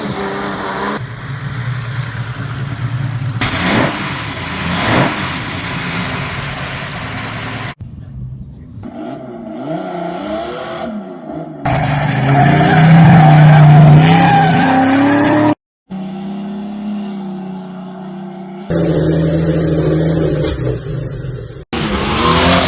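A Valiant panel van called the Moonraker revs its engine hard, the note climbing in loud surges with bursts of tyre skidding. Voices come through in places among the engine noise, and the sound cuts off sharply several times.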